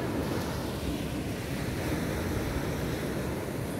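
Pacific Ocean surf at a beach in El Salvador rolls on as a steady, loud, broad wash of waves with wind buffeting the microphone, no voices.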